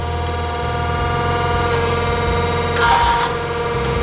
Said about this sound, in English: And we got a little bit of a sluicing sound there.